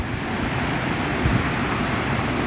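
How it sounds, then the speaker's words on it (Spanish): Heavy surf of three to five metre waves from a strong storm swell crashes on rocks along a Veracruz beach, a steady broadband roar with a brief heavier burst partway through, heard alone without voices. "vean las olas, de repente de 3, 4 y hasta 5 metros de altura."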